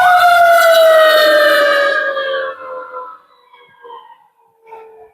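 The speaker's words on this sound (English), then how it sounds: "sorry about the sirens" A loud emergency vehicle siren wails outside, its pitch sliding downward as it passes and fades away, leaving fainter distant siren bursts.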